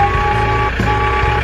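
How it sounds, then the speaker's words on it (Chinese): An animated loader vehicle drives out with a steady electronic reversing beep tone over a low, constant truck engine rumble, close and loud. "现在出厂的是装载机汽车，"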